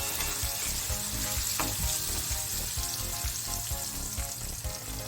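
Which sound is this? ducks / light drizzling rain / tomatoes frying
tomatoes frying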